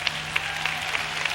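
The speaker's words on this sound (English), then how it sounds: "let's give them a great hand of applause" A steady wash of audience applause for graduates at a men's health and wellness program ceremony, a brief moderate stretch with a few sharper claps popping out at regular intervals.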